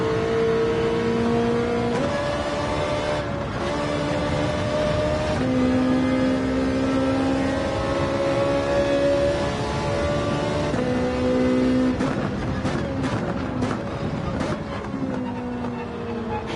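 A Lamborghini race car in Gran Turismo 7 roars loud and close for the whole stretch, its engine note holding, then climbing through gear changes, with brief dips and quick shifts near the end.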